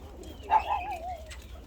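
A single short coo from a Karyağdı pigeon, close and fairly soft, with a low background rumble.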